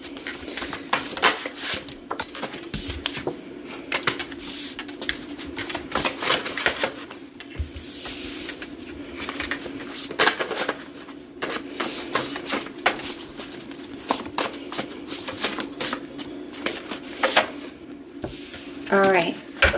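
A deck of oracle cards is shuffled in repeated bursts of rapid clicking and flapping, loud and close, with quiet stretches between riffles and some speech at times.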